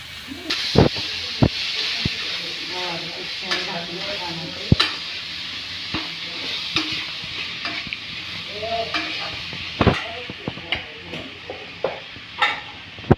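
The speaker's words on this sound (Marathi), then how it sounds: "आणि गवारीची शेंग आणि कोथिंबीर घालते" Cluster beans and coriander stir-frying in a pan: a steady close sizzle and hiss, punctuated by repeated sharp knocks and scrapes of a spoon against the pan, with occasional faint voices in the background.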